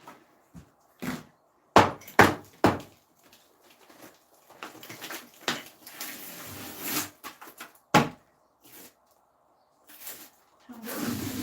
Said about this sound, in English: I'm going to use a hammer first